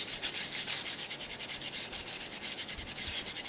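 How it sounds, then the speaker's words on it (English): A light sanding pass goes across painted stencilled letters on a wooden box, making quick repeated back-and-forth rasping strokes, close and steady, with no talking. "Just a really light sand across the surface of the letters."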